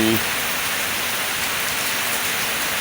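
Rain falls as a steady, even hiss of drops on surfaces, continuous and moderately loud, with a brief bit of voice at the very start.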